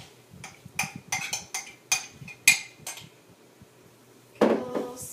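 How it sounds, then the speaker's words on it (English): Coconut oil is stirred into grated soap in a bowl, giving a series of sharp, close clinks and scrapes from a utensil against the bowl, spaced irregularly with short quiet gaps between. "Give it a little stir."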